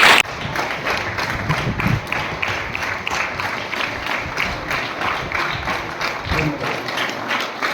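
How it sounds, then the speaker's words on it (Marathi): Steady, loud applause from a crowd at the close of a speech at an event honoring a farm labourer's daughter who became deputy collector, Chandwad taluka; dense rhythmic clapping fills the whole stretch and never stops, with no talk over it. "जोरात टाळ्या झाल्या पाहिजे मित्रांनो जोरात टाळ्या"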